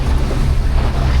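Strong wind buffets an open beach boat at sea while herring nets are set, a steady loud low roar of gusts and water rushing past with no speech.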